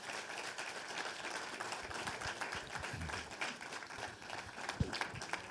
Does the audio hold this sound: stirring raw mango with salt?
no